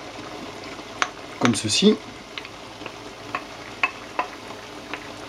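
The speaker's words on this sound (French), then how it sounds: "Quand on a mis le fond de jus dans la sauteuse, on va y ajouter nos champignons" Mushrooms added to a sauté pan with stock for chicken and mushroom risotto: a brief burst of sizzling and stirring near the middle, then scattered soft clicks of a wooden spoon against the pan while a voice speaks briefly.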